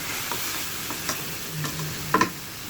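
Rohu fish frying in a pan on a stove, a quiet steady sizzle with a few soft scrapes and clinks of stirring near the end, no voices.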